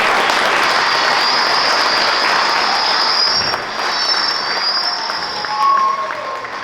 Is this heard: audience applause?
yes